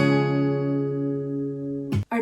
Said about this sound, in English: So G should sound like this.